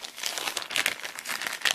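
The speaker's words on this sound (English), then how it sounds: "Plastic bag." Plastic bag crinkling close up while a boxed Super Nintendo game is unpacked, a busy, continuous rustle with sharper crackles and no talking.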